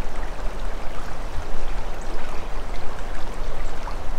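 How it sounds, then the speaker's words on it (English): Flowing creek water rushes steadily nearby, a dense, continuous broadband wash with no clear breaks, loud and close, with no voices over it. "Onward we go to the creek."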